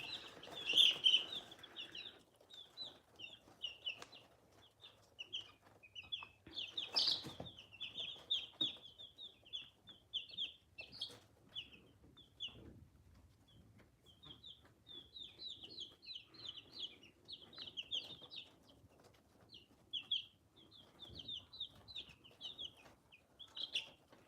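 Speckled Sussex chicks cheep in rapid, high chirps throughout, with occasional louder clucks and rustling nearby; no talking.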